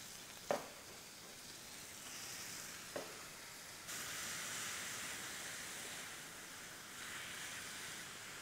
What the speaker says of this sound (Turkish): Şöyle sarımsakları yakmadan bir kavuruyorum.